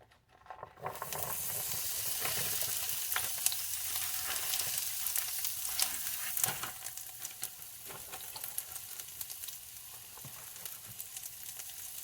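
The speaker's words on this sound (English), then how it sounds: "now we've added about 2 tablespoons of oil to the pan, and we're gonna cook our green peppers and onions" Green peppers and onions frying in about two tablespoons of oil in a pan for vegan fajitas, a broad steady sizzle starting abruptly after a quiet moment, with occasional pops and stirring scrapes, close up.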